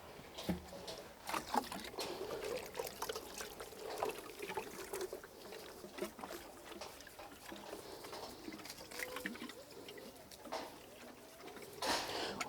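Water from a container splashes and trickles steadily onto a cold compost heap outdoors, a continuous low patter with scattered louder splashes and no voices.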